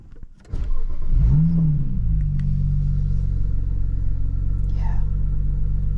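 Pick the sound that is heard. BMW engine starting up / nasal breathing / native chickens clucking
BMW engine starting up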